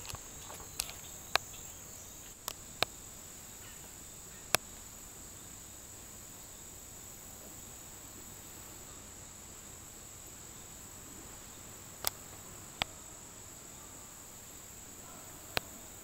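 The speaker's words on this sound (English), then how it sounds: "Oh my gosh, there's a locust right there." An outdoor insect chorus of steady, faint high-pitched chirping associated with a locust, continuing throughout and broken by a few sharp ticks and clicks.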